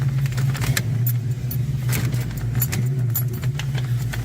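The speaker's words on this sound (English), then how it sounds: "This thing got no horsepower, but all the torque." A 5.0 car engine runs steadily close by with a deep, even rumble, and a faint jingle of keys rises briefly above it.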